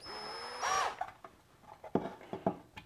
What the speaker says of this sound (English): and then I'll put in the rest of the screws.